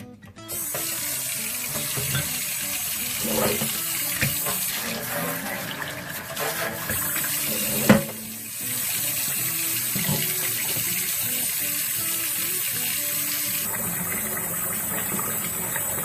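Steady running water from a tap splashing into a sink, continuous and fairly loud, with a brief knock partway through.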